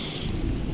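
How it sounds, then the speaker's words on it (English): Thunder rumbling during a storm, heard from inside a car as a loud, deep sustained roll mixed with rain and wind noise. "I don't know if you can hear this thunder"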